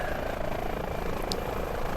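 Firefighting helicopter carrying a Bambi Bucket in a video game, a steady loud rotor and engine drone throughout with no talking.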